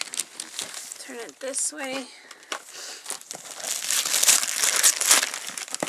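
A package is ripped open, loud crinkling and tearing of paper and plastic wrapping throughout, mixed with brief speech from people nearby.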